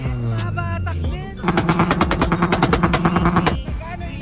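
Rapid string of loud exhaust pops and backfires from a tuned Honda Civic at a car meet, a burst of regular cracks lasting about two seconds, preceded by voices talking nearby.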